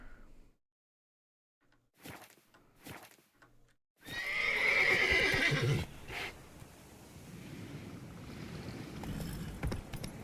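Roach, Geralt's horse in The Witcher 3, whinnies and snorts in short bursts after near silence, then trots in with a loud neigh and steady hoof clip-clops over a soft outdoor ambience.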